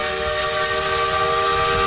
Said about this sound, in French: Un train à vapeur états-unien.